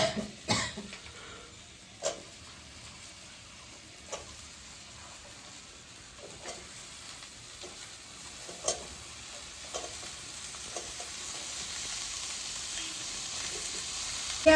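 Ridge gourd goes into a pan of spiced masala for a Bengali prawn curry, a soft steady sizzle broken by scattered stirring clicks and a cough, no talk.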